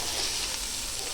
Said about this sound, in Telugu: వీటిని మంచిగా కలుపుకోవాలి